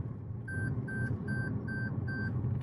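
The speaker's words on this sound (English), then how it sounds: "the car gives you this annoying beep." A Toyota Camry's lane departure warning sounds five evenly spaced electronic beeps over the steady low rumble of highway driving.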